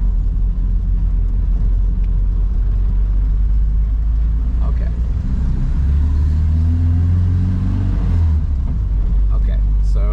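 A Renault R8 R10 with an automatic transmission drives along, its steady engine rumble and road noise shifting as the transmission lets off, with a person talking over it inside the car.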